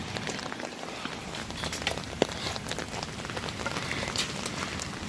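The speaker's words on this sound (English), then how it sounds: "the hail's starting to come back down" Hail coming back down outdoors over a garden of shredded pumpkins and peppers, a steady dense patter of small impacts across the whole stretch with one sharper nearby hit partway through.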